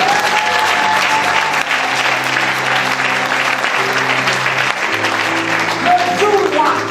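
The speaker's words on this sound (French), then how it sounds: "acclame très fort Jésus" Church congregation loudly cheering and applauding Jesus at a night worship vigil, a dense, continuous roar of clapping and shouting voices with music tones underneath, steady throughout.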